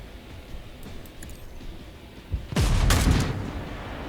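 Gunfire in Warhammer 40K Rogue Trader, a quiet lull followed by a sudden loud burst of shots with a booming impact that rumbles on as it fades.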